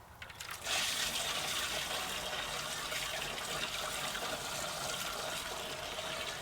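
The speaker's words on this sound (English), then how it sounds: "I'm going to try to pour some of this out of here like this" Lawn spray solution is poured through a funnel into a sprayer tank, making a continuous, close rushing trickle of liquid that starts abruptly and holds steady throughout.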